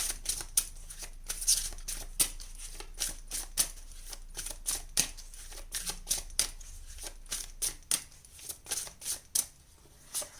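Tarot cards are handled and pulled from a deck during a reading, making a run of crisp, close card flicks and snaps in an uneven rhythm with short pauses between bursts.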